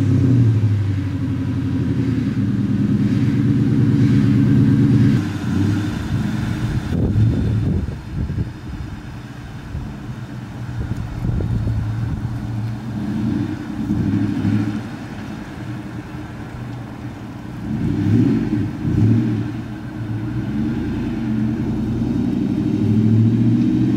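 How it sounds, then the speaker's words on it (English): Ford Mustang, just back from brake repairs, cruising on a road with a steady low engine rumble that swells and eases as it accelerates and slows, heard from inside the car with no talking. "I'm probably gonna go drive it up the road just to make sure everything's fine"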